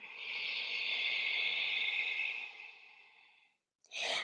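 A long, steady exhale during a vinyasa yoga class, close and breathy, trailing off softly after about three and a half seconds before a brief new breath begins.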